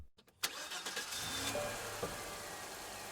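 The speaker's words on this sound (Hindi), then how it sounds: "एक गाड़ी के शोर ने नागवाड़ी के सन्नाटे को तोड़ दिया।" A jeep engine arriving in a quiet village, starting with a sharp catch and then settling into a steady, moderately close running drone with slight revving, no voices over it.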